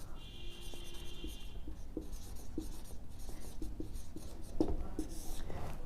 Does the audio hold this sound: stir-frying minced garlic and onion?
no